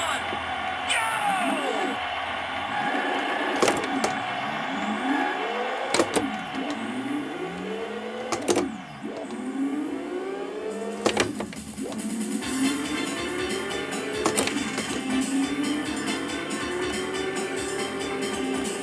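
In the Ridge Racer arcade racing game, a car engine revs up and down repeatedly, each climb cut by a sharp clunking gear-shift click, with more rapid shifts and clicks later under a continuous engine whine.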